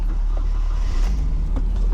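A stock Nissan 240SX engine cranks and catches, then settles into a steady, quiet low rumble close by, with faint mechanical ticks over the idle.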